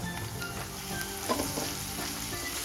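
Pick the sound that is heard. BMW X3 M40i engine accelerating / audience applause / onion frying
onion frying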